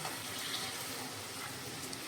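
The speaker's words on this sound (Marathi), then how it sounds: "याच्यामध्ये थोडं गरम पाणी टाकूया" Hot water poured into chicken sukka cooking on a gas stove makes a quiet, steady wash of pouring and splashing that holds for about two seconds, with no voices.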